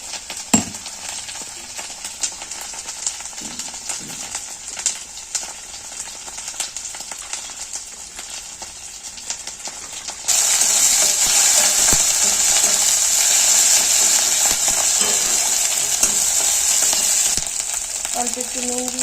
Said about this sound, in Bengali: পেঁয়াজটাকে নেড়ে একটু বেশি সেদ্ধ করে ভাজতে হবে, যতক্ষণ পেঁয়াজের জলটা আছে ততক্ষণই।